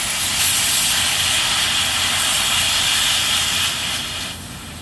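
Refrigerant gas hisses steadily from a loose, untightened flare fitting on an air-conditioning line, a loud, continuous broadband hiss that stays even before easing off slightly near the end.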